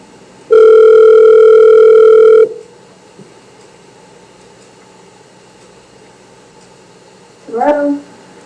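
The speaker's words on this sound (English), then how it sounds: "I will call her on her home phone just to see what's going on" A telephone call on a home phone begins with a loud steady electronic ring tone lasting about two seconds, followed by quiet room noise and a brief voice at the end.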